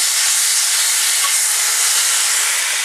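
Chicken breasts dropped onto a hot grill pan, giving a loud, continuous close sizzle with a bright hiss that holds steady throughout.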